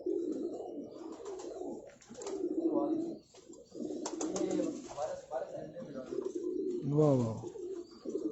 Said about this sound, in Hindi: इनके पास बड़े रिजल्टेड कबूतर हैं